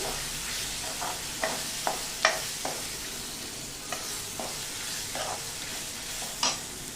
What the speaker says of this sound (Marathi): कांदा परतवून झाल्यानंतर थोडासा टोमॅटो याच्यात घालायचा. मस्त शिजवून घ्यायचं.